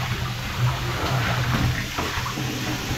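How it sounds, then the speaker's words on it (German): Hot water being stirred by hand in a tub, a steady close sloshing and swishing that runs continuously with small splashy surges, no talk over it. "Ich kann mal kurz rühren in der Wanne."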